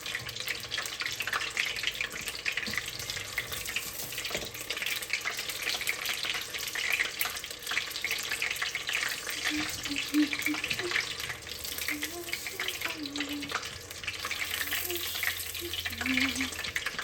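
Pork and vegetable egg rolls frying in hot oil: a steady, dense sizzle and crackle fills the whole stretch, close and fairly loud, with occasional faint bubbling pops.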